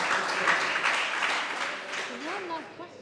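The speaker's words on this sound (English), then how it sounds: "That was very loud clapping, Alana." Loud, dense clapping from a crowd at a live skittles match fills the whole moment, with a voice rising faintly underneath toward the end.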